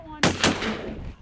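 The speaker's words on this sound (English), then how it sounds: "Alex, you got first shot." Two shotgun blasts ring out in quick succession at close range during a duck hunt, the second following about a fifth of a second after the first, with a short echo as the sound fades.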